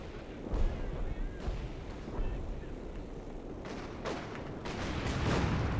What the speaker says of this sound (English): Grenade being thrown.